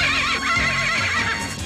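Winged horses in an animated cartoon let out a loud, close neigh, a continuous shrill whinny filling the short moment with no talk over it.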